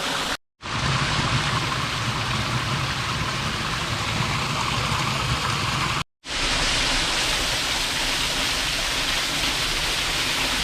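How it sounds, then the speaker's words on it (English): Rushing, steady roar of the Zebra Rock cascades in Oklahoma's Wichita Mountains, water spilling over and under rocks, loud and close, with two very brief dropouts in an otherwise unbroken wash of sound. "that'd be a really cool waterfall"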